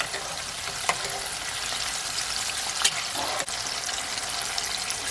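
Chicken strips fry in hot oil with a dense, steady sizzle and crackle, broken by a few brief pops and clinks.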